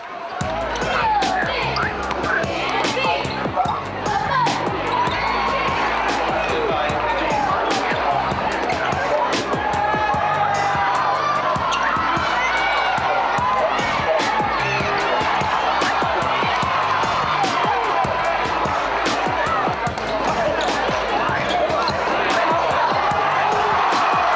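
Crowd cheering at a high school basketball away game at Homewood Flossmoor, a continuous loud roar of shouts and whoops with ball bounces and sneaker squeaks mixed in.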